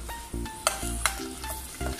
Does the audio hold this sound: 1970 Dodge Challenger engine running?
no